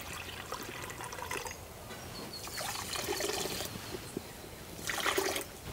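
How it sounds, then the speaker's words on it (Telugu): Water poured from a cup onto sugar in a kadai for syrup, a close splashing trickle with uneven surges and a louder gush near the end. "పంచదార అంతా కడాయిలో వేసుకొని మనం ఏ కప్పుతో అయితే పంచదార కొలుసుకున్నామో అదే కప్పుతో 1 కప్పున్నర నీళ్లు పోసుకుందాం."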